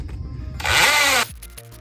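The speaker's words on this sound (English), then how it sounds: "drill a hole to meet the other hole that you did vertically" A power drill boring a hole sideways through a log for a rocket stove, a short loud burst of high whining drilling that lasts under a second, then cuts off into quiet handling noise.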